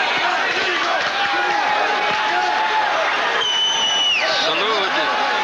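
A boxing crowd at the Frank Duarte vs. Jesus Salud fight stands and yells in a constant loud roar, while a commentator talks steadily over it.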